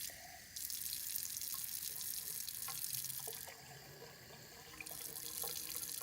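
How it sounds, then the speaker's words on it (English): Cold water, about 150 milliliters, is poured from a tap into a lab container for a salt water bath, a steady hissing splash that drops briefly midway, then resumes, fairly quiet. "we're going to put about 150 milliliters of water"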